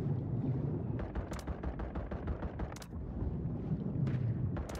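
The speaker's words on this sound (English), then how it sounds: "He called a mortar on me" Repeated heavy booms and blasts from a mortar strike in the Warzone video game, a dense, rumbling series of impacts with sharp cracks scattered through, loud and continuous without speech.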